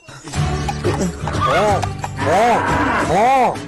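A horse neighs loudly several times in a row, each whinny rising and falling, with clattering noise and movement underneath.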